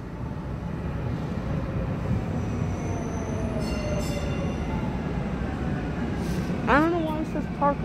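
Parker Road train pulling into SMU Mockingbird station, a steady rumble of wheels and cars throughout, with a rising squeal of wheels or brakes near the end as it arrives.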